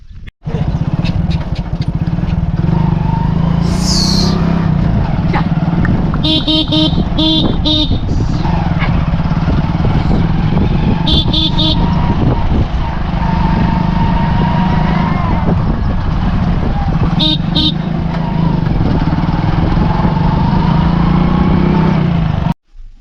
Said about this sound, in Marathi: चला आपली गाडी येत आहे